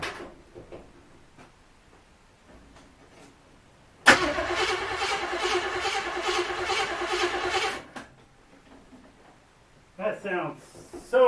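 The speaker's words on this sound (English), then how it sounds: "let's see if this thing will stay sitting here long enough for you to hear it crank over" Freshly rebuilt car engine without a carburetor cranking over on the starter, a loud, rhythmic chugging whir of nearly four seconds that stops abruptly, with quiet talk before and after.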